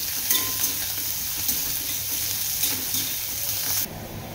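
Onion and coriander frying in a pan, a steady close sizzle with soft stirring scrapes that runs throughout and drops slightly near the end.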